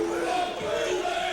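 A stadium crowd of rival Oakland Raiders and New York Jets fans at the 2000 NFL Draft roars and chants in a steady, dense wall of voices that continues without a break.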